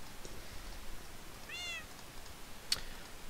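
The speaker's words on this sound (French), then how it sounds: "Oh, tais-toi le chat, tu m'énerves." A cat gives one short, fairly faint meow partway through an otherwise quiet indoor stretch, followed by a small sharp click.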